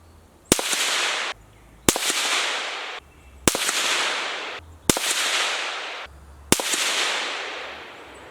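Five rifle shots fired one by one at even intervals for a 100-yard confirmation group, each a loud, sharp crack followed by a long echoing rumble that fades before the next shot.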